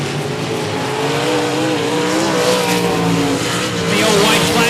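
Race cars roar around the quarter-mile oval at 105 Speedway, a loud, steady drone of engines with changing pitch, under an announcer's commentary.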